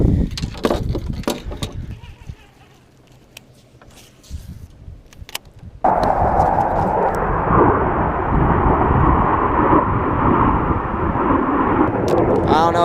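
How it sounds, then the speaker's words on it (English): A fighter jet roars overhead by a lake, a loud broadband rush that swells abruptly and holds steady to the end, following quieter rustling and handling noise. "I don't know if GoPro can pick that up, but some sort of fighter jet"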